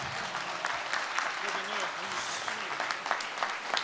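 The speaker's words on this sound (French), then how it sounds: "un petit applaudissement rien que pour mon ami" A crowd at a charity walk closing ceremony applauds steadily, a dense wash of clapping at moderate distance, with faint voices mixed in underneath.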